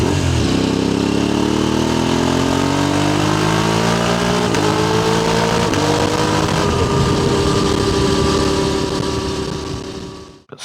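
A motorcycle engine roars, recorded by a microphone mounted on the exhaust pipe, revving and dropping in pitch over ten seconds before cutting off abruptly.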